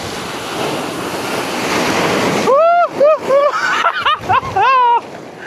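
Steady roar of surf rushing onto Bagda Beach in Odisha, India, for a few seconds, then people shouting and exclaiming excitedly over the water noise.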